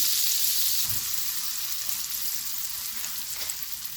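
A bun fries in butter in a pan, a steady close bright sizzle crackling on continuously with a faint clunk near the start.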